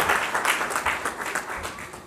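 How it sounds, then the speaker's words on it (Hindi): A crowd applauding a speaker at a stage event, a dense patter of many hands clapping steadily at moderate volume throughout. "जोरदार ताली बजाकर से।"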